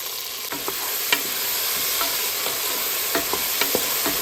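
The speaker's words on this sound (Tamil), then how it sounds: "வெங்காயம் வதங்கட்டும்।" Salted onions sautéing in a pan give a bright, constant sizzle, with soft, regular spatula scrapes and taps running through it from start to finish.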